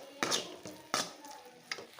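Roasted ground masala for a chicken gravy is stirred in a pan, giving three distinct scraping strokes with a soft sizzle between them. The sound is close and fairly quiet.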